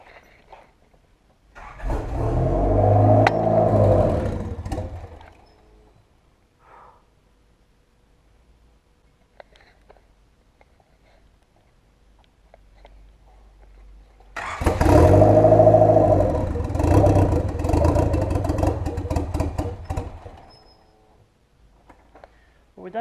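Honda Civic Turbo with a newly installed map sensor being cranked without starting: two separate bursts of starter churning, each several seconds long, with a quiet gap between them.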